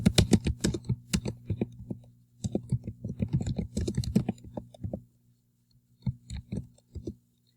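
Fingers typing on a computer keyboard while entering column headings in an Excel spreadsheet; close, quick clacking bursts of keystrokes with short pauses, then a few final taps.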